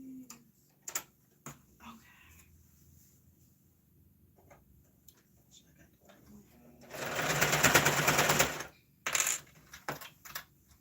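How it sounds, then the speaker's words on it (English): A sewing machine stitches a hair bonnet in one loud, rapid whirring burst of about two seconds, amid scattered clicks and fabric handling, with a short second run shortly after. "Now the key to making sure everything is sewn the right way is to sew a little further back"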